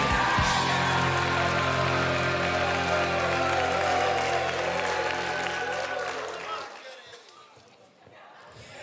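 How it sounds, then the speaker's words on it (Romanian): Audience applause and cheering at a stand-up comedy show, loud and dense with a tonal hum or music beneath, then fading out toward the end. "Aplauze pentru Cosmin Tobă!"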